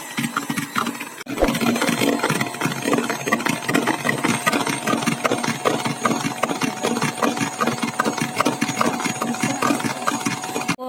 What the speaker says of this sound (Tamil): நான் இன்றைக்கி எலக்ட்ரிக் பீட்டர் தான் யூஸ் பண்ண போகிறேன்